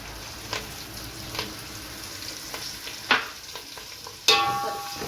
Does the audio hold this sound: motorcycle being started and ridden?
no